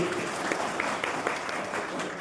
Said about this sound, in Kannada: ಮೊದಲನೇ ಬಾರಿಗೆ ಇವರೆಲ್ಲ ಮುಖಂಡರಿಗೆ ಜೋರಾಗಿ ಚಪ್ಪಾಳೆ ಹೊಡೆಯಬೇಕು